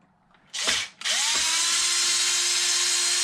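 A cordless power drill spins out the screws holding the wing mount on a Traxxas XRT RC truck, with a short burst, brief pause, then a long steady whir up close.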